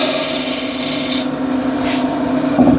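A skew chisel undercuts a large wooden bowl spinning on a lathe, giving a loud, continuous rasping scrape that shifts tone partway through and ends with a brief knock.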